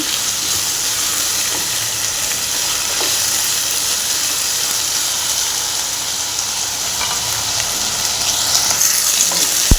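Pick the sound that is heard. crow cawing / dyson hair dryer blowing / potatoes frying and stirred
potatoes frying and stirred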